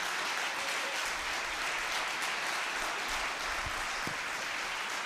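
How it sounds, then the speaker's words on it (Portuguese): A church congregation claps for Jesus at an evening worship service, a dense, even wash of applause sustained throughout at moderate distance, with no voices standing out. "Vamos dar ao nosso sumo sacerdote Jesus uma linda salva de palmas esta noite."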